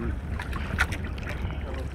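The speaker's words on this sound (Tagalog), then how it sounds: "makikita nyo sa video mamaya na yung alon sumasampa sa aming bangka. Malakas talaga yung alon." Rough, steady rush of strong waves and wind around a small fishing boat, with a louder slap near the middle and a low engine-like rumble underneath.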